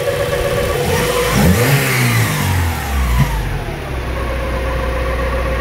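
A stock Honda H22A engine on a dyno revs up and falls back, its pitch sweeping high and dropping, then drops to a steady idle; close and loud, with no voices.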